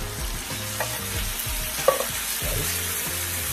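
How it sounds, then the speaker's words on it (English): Chickpeas being stirred into a vegan coconut milk curry in a pot, with steady scraping and swishing strokes over a soft continuous simmer, close and alone. "Just want to go ahead and stir that around."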